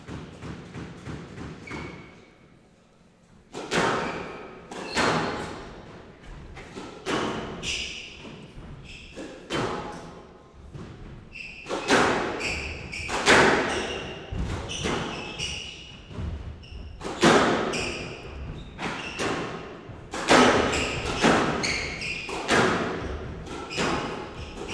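Squash ball struck and thudding off the court walls in a fast professional rally at a league final, a steady run of sharp impacts with squeaks, plus crowd noise swelling in the background.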